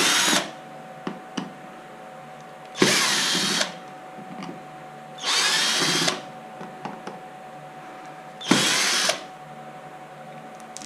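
A power drill drives the outer screws on a motor controller during a gearbox replacement on an MGI Zip Navigator, with four loud separate whirring bursts and quiet handling between them.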